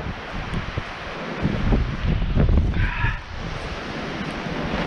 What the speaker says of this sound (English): You hear that wind just whipping